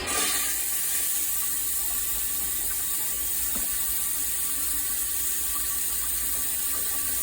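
A Thetford RV toilet flushing on city water, a loud close rushing hiss of water that holds steady throughout, with a brief mechanical clunk at the start.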